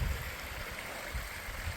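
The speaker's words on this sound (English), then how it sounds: "Look at that waterfall." A small waterfall along a canyon hiking trail makes a steady, even rush of falling water that fills the whole clip at a constant level, with no talking.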